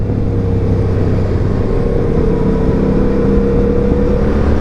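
A Yamaha XSR700 motorcycle being ridden, its engine holding a steady, loud, continuous drone with a deep low rumble throughout.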